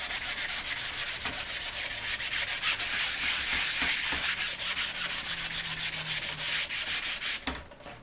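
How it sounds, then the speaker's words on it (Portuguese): Sandpaper rubs across a wooden skateboard deck in quick repeated back-and-forth strokes, a close, even, raspy scraping that holds steady throughout and thins out at the very end. "Já lixei os dois. Deixei redondinho."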